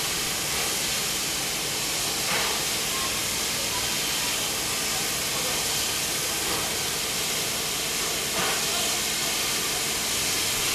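Steam locomotive 3801 hisses steadily while shunting into Maitland Yard, a loud, continuous broadband rush of escaping steam with a couple of brief louder bursts, close by and without talk.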